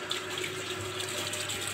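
Fresh water runs steadily from a tap in a village home, a continuous, even splashing stream close by with no talk over it.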